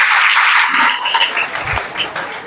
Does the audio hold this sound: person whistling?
no